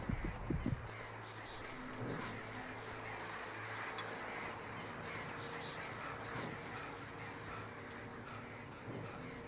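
Crows cawing in the video game Alan Wake, a few harsh caws up front and then sporadic faint calls over a steady, dense ambient hum.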